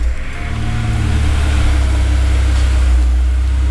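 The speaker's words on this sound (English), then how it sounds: "Okay, everything's back together. I'll fire it back up." A car engine, just back together after valve cover work, starts and settles into a steady, loud, close idle with a deep low rumble throughout.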